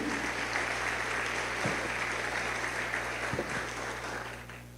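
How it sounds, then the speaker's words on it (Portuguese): A church congregation applauds in a sustained, even wash of clapping that holds steady and then fades slightly toward the end, with a low hum underneath. "Você pode aplaudir o Senhor?"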